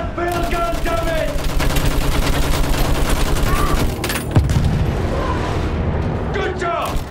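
Field gun and gunfire in the Battlefield 1 video game, a dense continuous barrage of shots and booms with a heavy blast near the middle, loud throughout amid battle noise.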